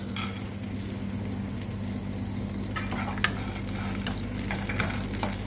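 Roasted gram dal frying in a pan for a dosa chutney, with a continuous close sizzle, a low background hum, and a few sharp scraping and stirring clicks toward the end.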